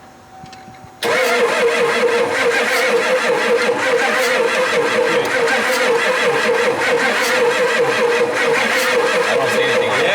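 Ford F-250 diesel engine that sat unused for over ten years cranking over after a second of quiet, a loud, steady, continuous starter-driven churn lasting the rest of the clip with no voices.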